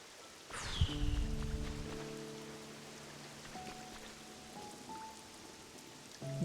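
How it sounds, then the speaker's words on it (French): Rain summoned by Kyogre in the video game Pokopia, a soft steady patter of falling drops under faint game tones and chimes, with a brief whoosh near the start. "Je vais faire pleuvoir un coup, tiens."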